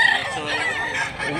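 A white rooster for sale at a chicken market in Mantalungon, Barili, Cebu, gives one loud, close crow lasting over a second, with faint voices around.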